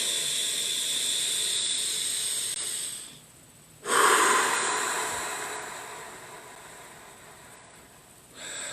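Deep breaths drawn in through the nose and let out through the mouth during a heart-opening breathing exercise: a long steady hiss, a brief pause, then a loud rushing exhale that trails off, and another breath beginning.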